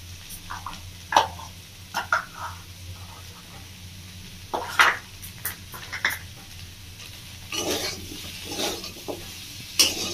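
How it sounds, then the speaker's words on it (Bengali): Ground cumin, coriander and turmeric being stir-fried in a pan for a Bengali drumstick vegetable dish, with a steady faint sizzle under repeated scraping strokes of a spatula, close by. "তো ভালো করে মশলাটা আমি কষিয়ে নেব।"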